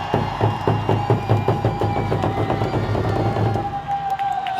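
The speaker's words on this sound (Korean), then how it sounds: "뜨거운 박수를 부탁드리겠습니다" A stadium crowd at the Doosan Bears' 2018 final regular-season game fan appreciation ceremony claps in a steady, rapid rhythm, then the clapping gives way to a sustained wash of crowd noise.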